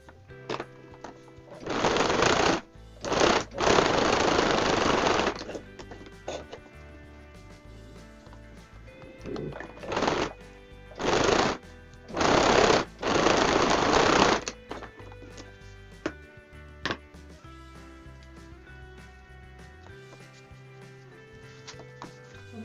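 Electric sewing machine stitching a hem on fabric for an eyeglass case, running in several short bursts of steady whirring separated by pauses with light handling noise.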